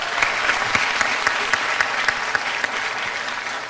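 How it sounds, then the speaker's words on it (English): Audience applause for pageant contestants at a Miss Bermuda pageant, steady dense clapping throughout with no talk over it. "so you all give them a round of applause"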